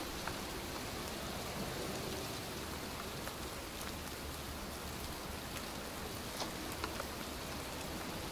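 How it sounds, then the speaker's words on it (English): Steady rain falls in a soft, even hiss in the video game Heavy Rain, with occasional drops ticking clearly against a surface; no voices. "It's cold, it's raining, I'm standing outside getting soaked."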